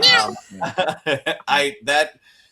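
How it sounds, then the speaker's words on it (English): A kitten gives a string of short, high meows, several quick cries in a row, close and clear against a quiet background. "tiny baby running into the wall and meowing"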